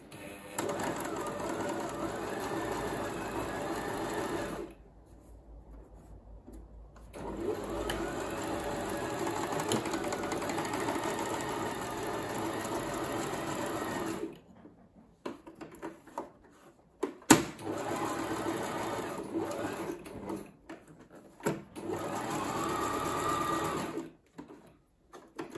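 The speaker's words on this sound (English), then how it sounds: "Change the stitch to a very zigzaggy stitch." A sewing machine runs a zigzag stitch on a fabric mask fitter in several close, loud bursts of rapid mechanical clatter, separated by short pauses and a few quieter stops.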